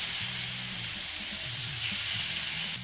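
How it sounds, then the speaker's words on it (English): Steak tips sear on a Blackstone griddle with a loud, steady hiss and crackle close by, running continuously for a few seconds with no voices. "So we'll let those start searing off."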